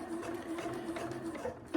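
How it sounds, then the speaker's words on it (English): A sewing machine stitches fabric for a hump jumper, giving a steady, continuous mechanical whir with a humming drone that runs unbroken and close up, with no talking. "we're going to sew up to this part"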